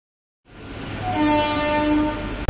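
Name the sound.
Howrah Pune Azad Hind Express train arriving at Bhilai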